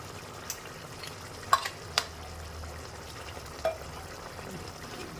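Potatoes frying in a pan after raw oil is poured in for aloo posto, a faint, steady sizzle with a few light clicks of a spatula stirring.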